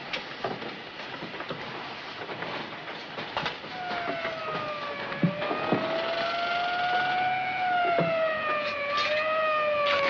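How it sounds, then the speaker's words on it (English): A wailing ambulance siren rises and falls in long sweeping tones, growing steadily louder as it approaches, with faint clattering and knocks underneath; no voices. "There's an ambulance coming"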